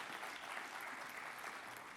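Audience applause at a stormwater industry conference keynote, a steady broad wash of clapping sustained evenly throughout with no voices over it.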